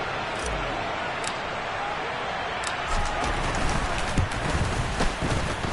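Rain falls steadily on a rainy night in a Commanders at Bears American football video game, a constant hiss with scattered splats and thuds, while crowd and game noise stay underneath.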